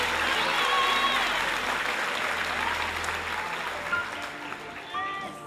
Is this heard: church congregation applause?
yes